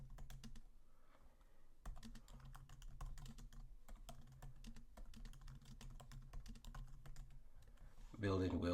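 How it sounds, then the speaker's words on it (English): Typing on a computer keyboard, with quick clusters of light key clicks over a soft background hum and a brief burst of voice at the end. "And inside my README, I'll just type"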